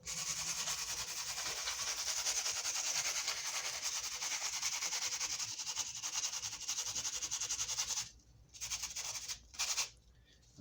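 Sandpaper is rubbed along the wood of a Lotus bass in a steady, close, continuous abrasive hiss, then breaks into a few short strokes near the end.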